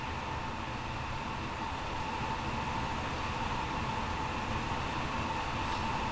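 An LNER Class 801 train running on diesel in Train Sim World 4 makes a steady, even rumble with engine hum and faint hiss, continuous and unchanging throughout, with no talk.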